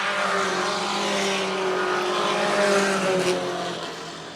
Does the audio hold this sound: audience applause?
no